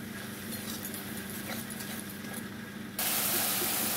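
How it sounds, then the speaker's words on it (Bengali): Sour yogurt hits a pan of frying spice paste, setting off a loud, steady hiss of sizzling that surges even louder and brighter near the end. "এবার আমি এই যে টক দইটা আমি দিয়ে দিলাম।"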